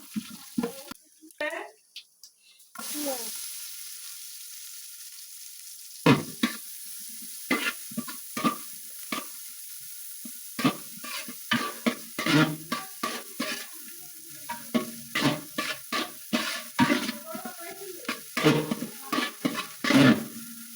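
Whole cumin seeds and whole spices sizzle in hot oil in a pot while biryani is cooked, with a steady frying hiss and repeated short scraping stirs throughout, close and clear, with brief talk near the start.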